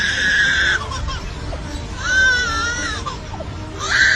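A lyrebird at a zoo mimics a crying baby, giving three separate wailing, rising-and-falling cries with short pauses between them, close and clear.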